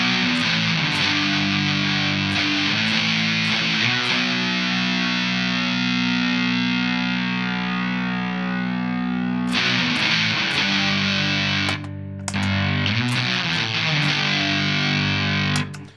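Heavily fuzzed electric guitar through a Tone Bender fuzz pedal plays thick, buzzing chords and riffs with sustained, saturated tone and a brief pause before the playing resumes.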